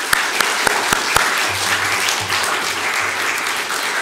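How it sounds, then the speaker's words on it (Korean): Church congregation applause at a deacon ordination, a full, steady burst of clapping with a few sharp individual claps at the start and a low hum underneath. "오늘 임직하게 될 우리 김권기 집사님 위해서 축하와 격려의 박수"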